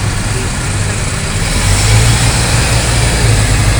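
A motorcycle ridden through traffic on a hot Sunday, with a loud, close engine drone and rumbling road noise that rise slightly as the engine revs, plus wind rush throughout.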